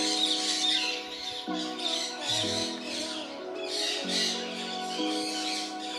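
Many birds squawk and call together in a crowded aviary holding parrots such as sun conures alongside pigeons. The harsh calls are loud, close and continuous, overlapping without a break.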